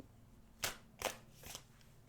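A deck of pick-a-card tarot cards is shuffled nearby, giving three short, crisp riffling bursts spaced about half a second apart against a quiet room.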